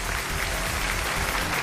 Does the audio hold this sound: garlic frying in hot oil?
no